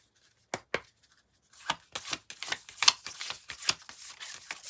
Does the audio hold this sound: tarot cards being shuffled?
yes